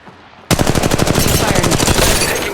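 Rapid automatic gunfire rattles out in the mobile shooter Apex Legends Mobile, a loud, dense burst of rounds kicking in abruptly after a short quiet lead-in and continuing to the end.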